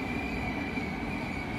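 A train at Schiedam Centrum station rolls through with a steady, loud high-pitched wheel squeal over continuous rumbling, close by and without speech.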